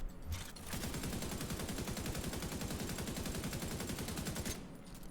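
Rapid sustained automatic fire from an FAL rifle in The Division 2, a dense, even rattle of shots that runs for about four seconds before cutting off.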